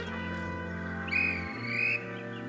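Steam locomotive whistle sounding twice in quick succession, each a bright sustained tone of about a second with a short gap between, standing out over a steady low rumble.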